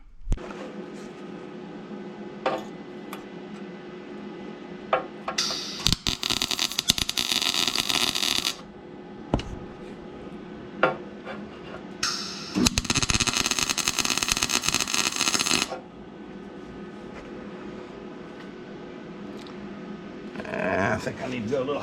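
Tack welding an AN fitting onto a Nissan 240SX KA24DET oil pan for a turbo drain: two loud buzzing, crackling arc bursts of a few seconds each, separated by quieter shop background.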